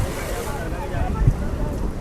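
Sea waves wash along the shore at Haji Ali dargah in Mumbai, a broad, rushing roar mixed with wind buffeting the microphone, steady and close with no distinct breaks.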